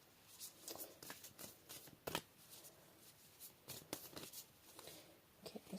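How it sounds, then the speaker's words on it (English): Tarot cards are shuffled up close, quiet riffling and soft slaps repeating in irregular bursts with no talking. "If you want to see my messy shuffling"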